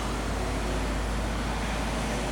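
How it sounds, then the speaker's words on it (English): A truck passes on a road early in the morning, a steady broadband roar of tyre and engine noise holding level throughout with no voices. "truck driving past"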